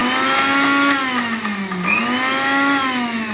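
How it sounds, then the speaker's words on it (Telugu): A mixie grinder whirring loudly as it grinds garlic, salt and gram flour, a steady motor whine whose pitch dips briefly mid-run and climbs back, close and alone with no talking. "గ్రైండ్ చేసుకుందాం."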